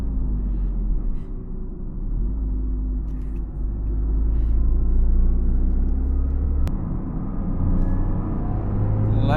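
Toyota GR Corolla with a 1.6-litre engine accelerating through third and fourth gear, a steady low engine drone that climbs in pitch, drops at a gear change and rises again, heard from inside the car.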